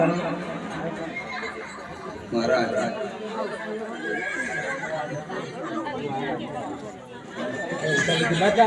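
A horse neighs repeatedly during a crowded devotional gathering at the Chamunda Mata temple in Petlad. Its whinnies rise over steady chatter and several voices talking throughout.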